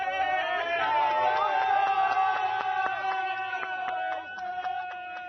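Rugby fans in the Bloemfontein stadium cheer loudly for the Springboks, a sustained crowd roar with whoops and horn-like tones that fades slightly toward the end, with no talk over it.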